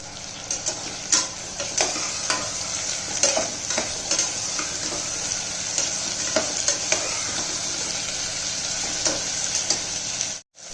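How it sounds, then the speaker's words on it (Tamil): Onion, ginger and green chilli sauté in hot oil for semiya upma, a steady close sizzle broken by frequent scraping stirs and ticks, with no talk. "இப்போ இதில் நம்ம வெங்காயம், இஞ்சி, பச்சை மிளகாய் போட்டு நல்லா வதக்கிக்கலாம்."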